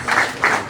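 A crowd at a press address by Liberia's president-elect Joseph Boakai, in the presidential office, breaks into applause in three short loud bursts with brief lulls between them.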